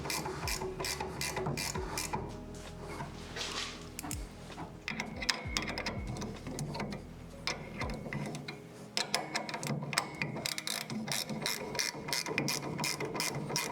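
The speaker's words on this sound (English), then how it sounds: "So 14 mil. Just gonna grab the actual wrench." A 14 mm ratchet wrench clicks rapidly in bursts while working on a wheel, crisp close mechanical ratcheting with brief pauses between strokes and no speech.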